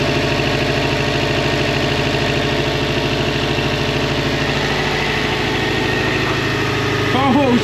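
A Subaru STI engine idles roughly and misfires, a loud, close, continuous rumble with uneven pulsing throughout and a slight rise near the end.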